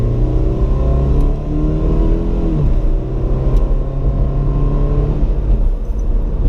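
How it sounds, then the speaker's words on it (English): A 2016 Scion FR-S accelerating hard on a test drive, its engine note climbing loud and close through a rising run, dipping at a shift, then climbing again with no talk over it. "This car gets up to speed and it wants you to know it's getting up to speed. It's loud."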